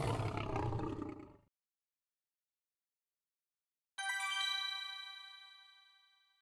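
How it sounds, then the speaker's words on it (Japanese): A lion gives one deep, rough roar lasting over a second, loud and close, then silence and a bright ringing chime that slowly decays. "ライオン。"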